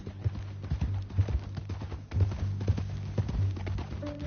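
Horse hooves clip-clop at a steady walking rhythm in Red Dead Redemption 2, fairly close, with faint low rumble beneath and no talk.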